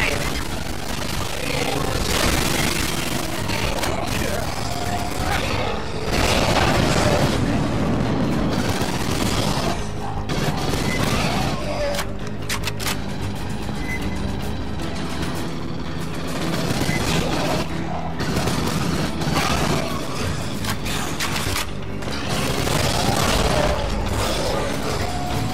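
Gunfire rattles in the Alien: Fireteam Elite video game as players shoot enzymatic fuel cells, with loud repeated bursts, booms and mechanical clanks over about twenty-five seconds in a dense, busy game mix.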